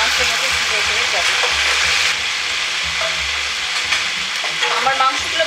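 Chicken pieces frying in hot oil with cloves and whole garam masala, a dense, loud crackling sizzle that runs without a break, close up, with a low hum underneath.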